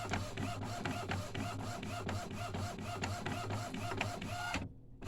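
An Epson SX218 inkjet printer printing, its print head shuttling back and forth in a steady repeating mechanical rhythm, close and continuous until it stops abruptly near the end.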